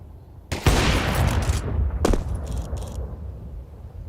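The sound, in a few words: gunfire in the video game Counter-Strike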